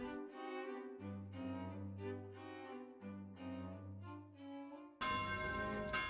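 Bells of a local church in Salzburg, built in 1644, ring in a steady repeating peal with sustained tones, heard faint and at a distance, ending in a brighter burst of ringing.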